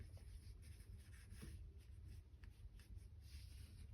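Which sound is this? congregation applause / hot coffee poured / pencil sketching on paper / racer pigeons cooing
pencil sketching on paper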